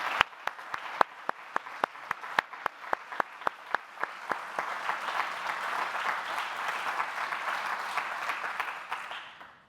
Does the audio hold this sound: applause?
yes